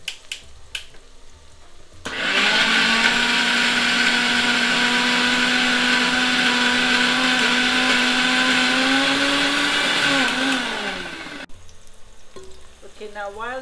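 An electric blender whirs at full speed through browned onions for chicken curry, starting abruptly and running as a loud, steady, close-up drone for about nine seconds before winding down and stopping, with brief kitchen clatter around it.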